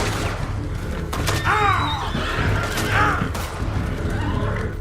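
A horse in the Red Dead Redemption 2 video game gives two loud, shrill neighs in quick succession over busy in-game background noise, followed by a fainter whinny near the end.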